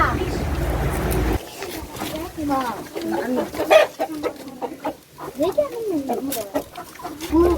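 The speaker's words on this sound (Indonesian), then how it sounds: "itu juga ayam" Chickens cluck and murmur in a school livestock pen, close and lively with repeated short calls, while people talk over and between them.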